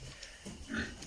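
Pigs grunting in a pigsty pen, a few low, faint snorts and grunts in a brief stretch over a muffled background.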